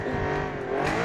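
Hypercar engine in the BeamNG driving game revs hard while drifting, a brief, loud, close whine that rises near the end.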